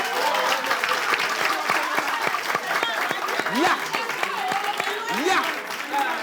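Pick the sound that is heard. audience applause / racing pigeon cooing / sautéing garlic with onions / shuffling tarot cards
audience applause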